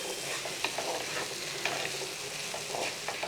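Fried okra being stirred into gravy in a pan, a steady soft sizzle under repeated scraping strokes of a spoon, close and moderately loud with no talking.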